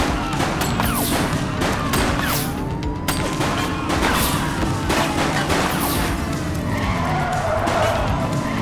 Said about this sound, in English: Shoot the vehicle!